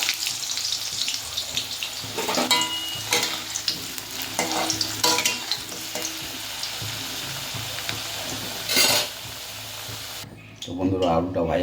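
Potatoes frying in hot oil give a steady sizzle with sharp bursts of stirring and clatter, close and fairly loud, with a brief quieter gap near the end.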